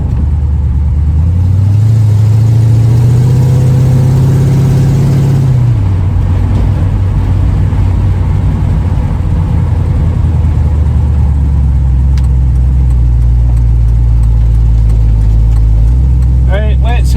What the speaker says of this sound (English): I have a noisy exhaust.